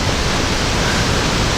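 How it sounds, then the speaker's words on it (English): Rainforest streams in Kangpo-Pi rush steadily, a dense, loud, continuous wash of flowing water with no voices. "So the sound that you hear, those are streams."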